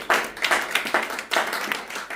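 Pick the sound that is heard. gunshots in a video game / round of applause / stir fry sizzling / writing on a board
round of applause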